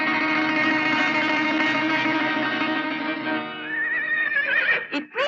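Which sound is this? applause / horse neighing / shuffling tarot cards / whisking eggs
horse neighing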